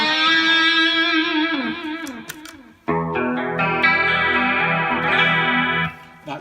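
Clean electric guitar chords with a shimmering chorus effect and reverb, no distortion, ringing out alone with a pause before a new sustained chord fades away.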